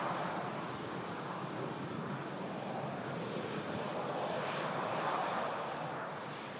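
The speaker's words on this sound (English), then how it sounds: "EasyJet. Next to land, A319." Steady engine roar of an Airbus A319 passenger jet landing at Manchester Airport in stormy, windy weather, constant and fairly distant with no voices.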